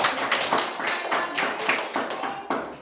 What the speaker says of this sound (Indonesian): Mari kita berikan tepuk tangan kepada